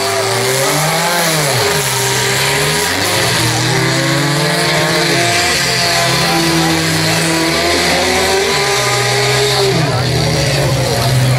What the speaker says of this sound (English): Lots of power left in both those engines.